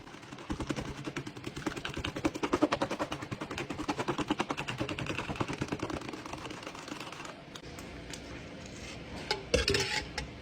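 A spoon stirring iced coffee with cream in a glass, giving a fast, steady run of close, rattling clinks that slows and thins near the end, with no voices.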